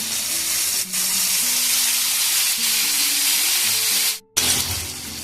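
Ground spice paste hits a hot pan for a yogurt prawn curry, giving a loud, steady broadband sizzle that breaks off for a moment near the end and then resumes.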